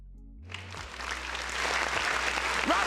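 Applause from an audience for a guest named Persona rises after a moment of low hum and builds steadily, sounding like a small crowd clapping and cheering.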